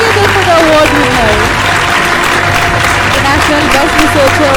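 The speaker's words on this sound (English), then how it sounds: "Ladies and gentlemen, put your hands together for the award winner." Sustained applause from an award ceremony crowd for a researcher receiving an international award, a dense steady wash of clapping that lasts throughout, with music and speech mixed underneath.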